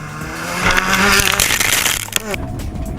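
A Subaru Impreza rally car starts a stage at the Mobil1 Rally, its engine revving up loud and close, then dropping away with a sharp burst and tire noise. A voice can be heard faintly behind it.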